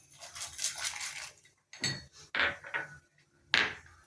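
Chana dal and peanuts tumble into a hot pan for garlic rice, giving a scattered clatter of hard grains against metal, then several sharp clinks and scrapes that come in short bursts separated by brief quiet gaps.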